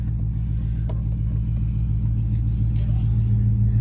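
A deep, steady exhaust rumble from a 6.4 Hemi V8 car engine idles close by, low and throaty throughout with no pauses.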